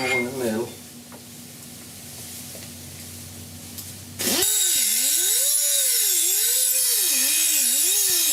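An angle grinder works the edge of a fabricated steel patch panel for a 1969 Chevrolet C10 core support, starting after a quiet stretch and then running loud and continuous with a rising and falling whine.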